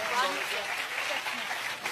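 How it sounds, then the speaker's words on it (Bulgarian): A studio audience at a Bulgarian TV entertainment show claps steadily and loudly throughout, with a voice talking over the applause. "Силни аплодисменти за тях."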